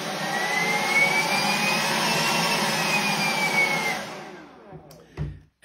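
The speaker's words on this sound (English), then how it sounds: "So I'm going to just turn it on to the 1 speed, just so you can hear it." BHY 21V cordless electric leaf blower running loud and close, a steady high-pitched whine and rushing air rising slightly in pitch as it speeds up, then cutting off and spinning down, followed by a few small clicks.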